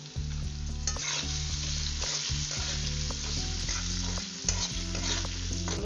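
Potatoes frying in a pan with salt and turmeric, a steady close sizzle with repeated scraping stir strokes throughout, no voices.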